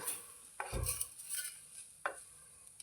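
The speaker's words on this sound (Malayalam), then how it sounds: "ഇളക്കി കൊടുക്കാം." Jackfruit curry is stirred in a pan after roasted ground coconut is added, with a couple of distinct close scrapes and clinks of a utensil against the pan over a faint background hiss.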